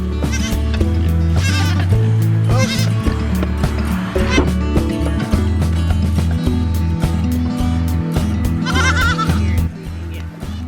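Goats bleating loudly and repeatedly, several wavering cries over a steady low background hum.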